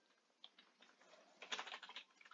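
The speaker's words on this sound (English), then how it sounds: "you might hear the clickings of the, keyboard" Quiet, irregular clicking of a computer keyboard, with a denser burst of keystrokes partway through, fairly close.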